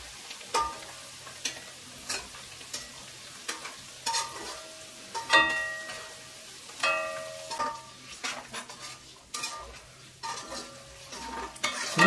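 Coriander and mint leaves fry in hot oil for chicken pickle, a soft steady sizzle broken by repeated scraping and clinking of a spoon stirring in a metal pan.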